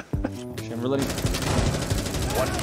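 Rapid automatic gunfire from the video game Rainbow Six Siege, a dense sustained burst following an initial sharp shot, loud and close, with a voice talking over it.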